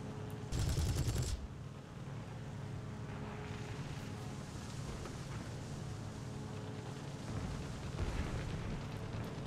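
Aircraft machine-gun fire in the War Thunder air-combat game with a tail gunner aboard, opening with a loud burst of rapid shots and then a continuous rumbling engine-and-gunfire din with another burst near the end.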